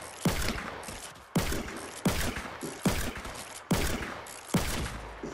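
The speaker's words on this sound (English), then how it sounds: "I found the trick how to use double revolver properly." Double revolvers firing in a video game, six loud, sharp gunshots spaced about a second apart, each with a short echoing tail, close up with no talk.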